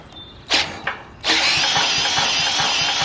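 Generator engine spun by a cordless drill starter, with two short whirring bursts before it catches and roars into a loud, steady running drone close by, choke in the run position.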